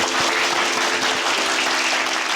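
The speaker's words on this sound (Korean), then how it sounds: "박수 주십시오." A television studio audience breaks into brisk, even clapping, a dense wash of applause that holds steady for a couple of seconds with no talk over it.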